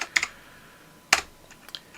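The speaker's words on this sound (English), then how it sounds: "Type your message out, and when you're done, press enter." Typing on a computer keyboard, heard as a few sharp key clicks in short clusters with quiet gaps between them, close and clear, with no voices.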